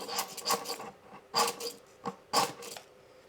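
A ferro rod is struck and scraped to throw sparks, giving three or four rasping strikes spaced about a second apart. The strikes are close and fairly quiet, with soft scraping between them.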